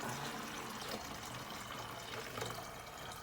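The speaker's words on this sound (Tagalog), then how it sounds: "Tapos isasalin natin dito." Steady, quiet stream of distilled water pouring into a container, a continuous hissing trickle with no voices.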